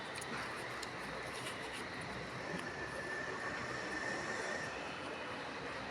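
A train runs along railway tracks through Nellai as a steady, broad rumble that holds at an even loudness throughout, with a faint thin tone rising briefly near the middle.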